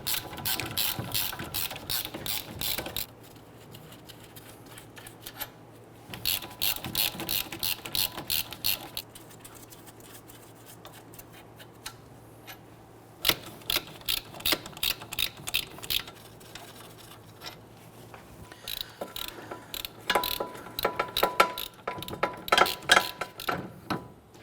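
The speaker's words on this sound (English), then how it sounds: "I'm going to go ahead and remove those bolts the rest of the way." A hand ratchet backing out wheel hub bolts on a 2011-2015 Kia Sorento, in bursts of rapid clicking separated by short pauses, close and clear, with no talking.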